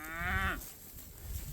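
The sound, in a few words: cow mooing on a farm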